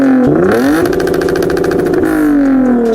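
A car with a $600 catback exhaust, muffler delete and high-flow resonators revs hard, the engine note climbing, holding and easing back in a loud, raspy, close-up burst with no talk.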